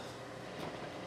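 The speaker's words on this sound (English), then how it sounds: "shop air is running, furnace is running. Sorry about the noise" A steady, broad rumbling hiss of a shop air compressor and furnace running nearby, constant and even with no breaks or voices.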